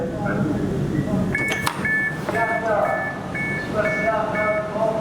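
Repeated electronic beeps from the door buttons of an HCMT Metro train in Melbourne ring out in short evenly spaced pulses inside the carriage while someone talks over them.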